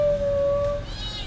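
A kitten gives a single drawn-out, steady meow, close and clear, followed by a quieter trailing call inside a house in Quezon City, with no talk over it.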